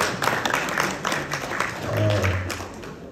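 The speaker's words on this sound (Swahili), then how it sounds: "Makofi mengi kwa mzee Mgutu jamani." A crowd claps and applauds for Mzee Mgutu at a Yanga and NBC membership card signing event, steady mid-level clapping blended with background voices that swells slightly toward the end.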